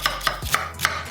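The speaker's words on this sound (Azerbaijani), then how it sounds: "qabığından soyub qəşəng doğramağa." Knife chopping peeled tomatoes on a cutting board, a few evenly spaced, crisp chops close by, about one every quarter second, with no talking.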